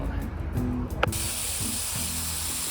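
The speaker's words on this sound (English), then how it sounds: "let's go ahead and spray everybody down" A soaker hose suddenly bursts on and sprays water onto the ground of a tortoise enclosure in a loud, steady hiss that continues to the end.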